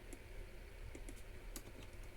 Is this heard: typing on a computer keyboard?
yes